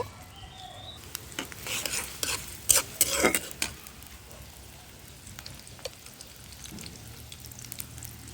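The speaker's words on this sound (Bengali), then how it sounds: "পেঁয়াজ কুচিটা একটু ভেজে নিব।" Chopped onion fries in a pan with a soft background sizzle, interrupted by bursts of stirring and spatula scraping that come in loud clusters early on before settling into quieter, scattered stirs.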